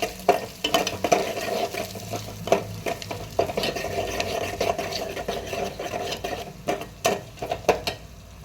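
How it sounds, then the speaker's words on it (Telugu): Green chillies, tomatoes and onions frying in a pan while being stirred, with repeated scraping and clanking strokes over a steady sizzle, close and fairly loud, no talking. "ఇప్పుడు ఒకసారి కలబెట్టుకోవాలి."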